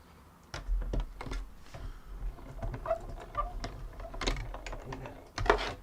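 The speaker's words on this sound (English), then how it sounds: "So I'm going to run that through my die cutting machine." A manual die cutting machine, a Big Shot, is cranked to feed paper and a die through for card making: a run of sharp, uneven clicks and knocks up close, with faint background rumble.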